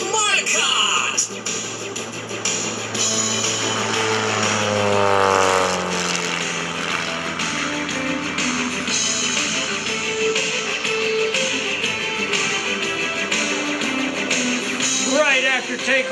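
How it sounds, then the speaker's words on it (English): The engine of a 300-plus horsepower aerobatic propeller airplane drones and shifts pitch as it performs at the 2011 Greenwood Lake Airshow, while an announcer talks continuously over it. "He's got over 300 horsepower in this airplane"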